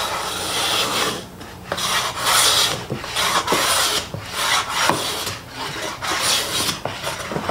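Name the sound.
Millers Falls hand plane with 55-degree frog planing quarter sawn sycamore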